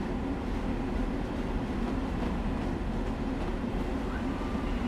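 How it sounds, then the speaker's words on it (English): A train in Train Sim World 4 scrapes along a station platform, giving a steady, loud, dense rumble with grinding texture that holds without a break from start to finish. "I just love to slam my train into the side of the platform here as well"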